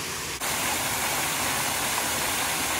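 Steady, full rushing roar of a waterfall in Northern Ireland, heard up close and loud; a brief dip near the start, then unbroken white-noise-like cascade with no talk.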